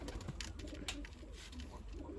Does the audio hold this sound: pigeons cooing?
yes